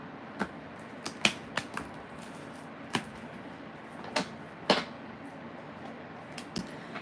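Tarot cards being shuffled by hand, a few sharp riffling and tapping clicks scattered irregularly over a faint quiet background, close and fairly soft.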